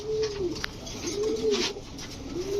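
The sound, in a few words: pigeon cooing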